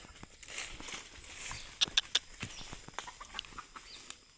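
A captured wild junglefowl gives a few quiet, brief clucks in the middle of soft rustling and handling noises from hunters nearby.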